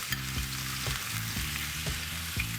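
Onions sweating in a pan as the start of a filling for vegetarian stuffed eggplant, a steady quiet sizzle with low rhythmic knocks from a utensil stirring every half second or so.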